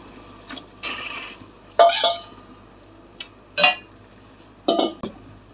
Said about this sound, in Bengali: দিয়ে ভালো করে একটু নাড়বো, একটু ভালো করে নেড়ে দিই।